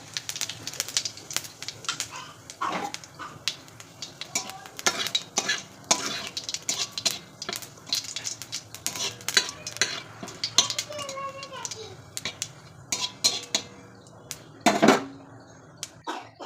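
Whole cumin seeds tempering in leftover oil from frying pabda fish, with a low sizzle beneath frequent clattering spoon-on-pan stirring strikes, irregular and close, one louder knock near the end; nobody speaks.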